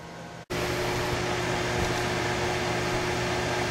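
A microwave oven with bread dough inside starts with a click, then runs with a steady, even hum and fan whir that holds unchanged throughout.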